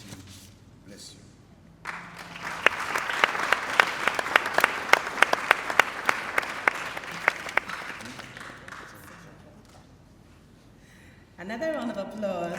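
A voice speaks briefly, then an audience at a KNUST herbal medicine awards ceremony breaks into applause. Several sharp claps stand out above the crowd for a few seconds before it thins and fades, and a voice speaks again at the end.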